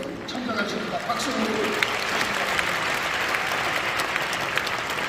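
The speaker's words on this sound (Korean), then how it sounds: "박수." Congregation applauding at an Easter joint prayer meeting in a large church, a continuous wash of clapping that builds and holds, with a voice briefly audible underneath.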